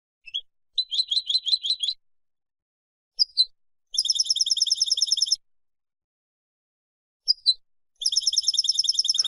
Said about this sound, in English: very often we're into double figures of this bird, the goldfinch, in our gardens